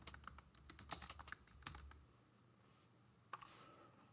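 Quick bursts of keystrokes on a computer keyboard, close and fairly quiet, clustered in the first two seconds with a few later taps and pauses between.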